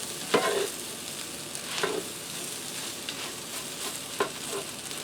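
Sausage, bacon and potatoes frying in a breakfast skillet, a soft continuous sizzle broken by a few distinct scraping stirs of a utensil against the pan, close and moderately quiet.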